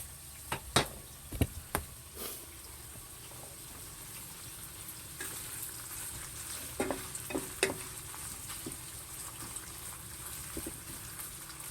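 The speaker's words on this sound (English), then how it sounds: "let's see how the sausage is doing. Oh, it's browning up real good." Sausage browning in a pan for a Southern-style sausage, peppers, onions and cabbage dish gives a steady, quiet sizzle, broken early on by a few sharp clanks and scrapes of stirring, with no talking.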